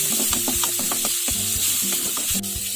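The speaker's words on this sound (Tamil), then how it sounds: "தக்காளி நல்லா வதங்கி வரட்டும்." Tomatoes sizzle in ginger garlic paste for Kerala-style chicken, a loud, close frying hiss broken by a rhythmic series of scraping, tapping stirs with a spatula, no voices.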